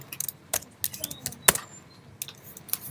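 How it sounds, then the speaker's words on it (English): Keyboard typing, a scatter of sharp clicky keystrokes at an uneven pace, fairly close, with one louder key strike midway. "1 second, I'm just typing in."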